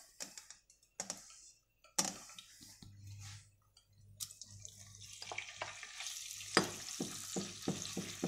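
Chicken pieces dropped into plenty of hot oil for arroz con pollo, bursting into a crackling sizzle that builds and grows busier, with sharp clatters and pops of handling at close range.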